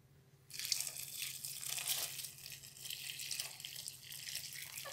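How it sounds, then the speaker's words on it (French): Shrimp broth splashes and pours over tomatoes and onions cooking in a pot, a soft close-up gush that starts suddenly and keeps flowing with gentle bubbling. "Et je viens mouiller avec le bouillon de crevettes."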